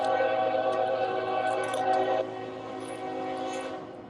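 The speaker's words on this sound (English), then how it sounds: "Train coming by." A train rolls by at close range, its horn sounding as steady tonal blasts over a continuous rumble that drops off partway through and then holds at a lower level.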